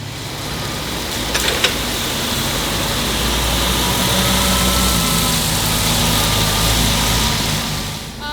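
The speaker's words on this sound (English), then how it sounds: "I want to get a sweet shot of the forklift cruising over" A forklift engine runs steadily nearby as the machine drives past, a continuous mid-loud motor hum that swells slightly and fades at the end, with a few light knocks early on.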